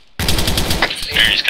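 A loud, rapid burst of automatic gunfire from the military video game ARMA 3 erupts after a brief silence and rattles on close and sharp.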